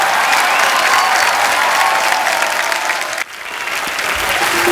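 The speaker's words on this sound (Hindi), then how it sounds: "जोरदार तालियां एक बार" Enthusiastic applause from a TV comedy show studio audience fills the space, dense clapping that briefly dips and then resumes strongly.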